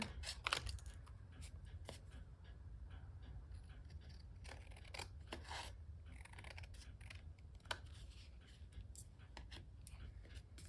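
Scissors snip through glued paper during a Valentine card and tag craft, giving quiet, irregular crisp cuts and rasping slides, close up over a low background hum, with no talking.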